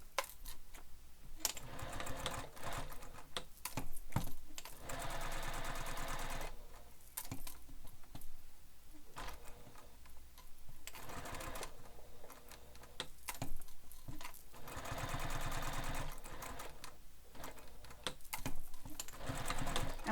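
A sewing machine stitches around a rectangular handbag panel in repeated rapid mechanical runs, pausing between bursts, with small clicks and handling sounds in the gaps; close and fairly quiet, with no talking.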